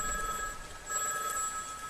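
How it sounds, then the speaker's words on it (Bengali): Telephone bell in a passage of a Bengali audio drama ringing in a double-ring pattern, two bursts of electric ringing, moderately quiet and heard alone. "টেলিফোন 2 করে বাজছে দেখে বুঝলাম আমারই ফোন।"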